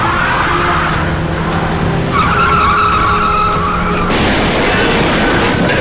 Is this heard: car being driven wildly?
yes